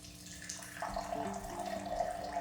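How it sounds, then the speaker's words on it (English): Muddy water runs through a Sawyer filter into a cup, giving a steady trickle with a thin pouring tone that rises in pitch as the cup fills, close and alone without talk. "we are going to start filtering this muddy water"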